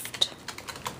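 Fingers typing on a computer keyboard, a handful of quick separate clicks in close succession, near and fairly soft.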